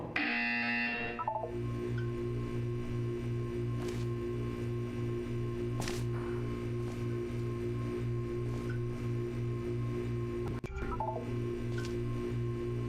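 A steady, pulsing electronic buzzer in the video game Aperture VR drones on and on in a repeating rhythmic pattern, with a few faint clicks over the tone.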